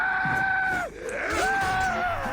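A character in Assassin's Creed Origins lets out a loud, sustained scream with strained tonal wails that dip briefly in the middle, close and prominent against game ambience.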